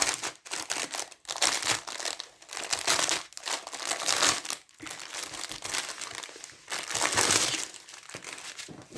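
Loud crinkling and crackling of plastic packets being handled and torn open, in repeated bursts with brief pauses, close by.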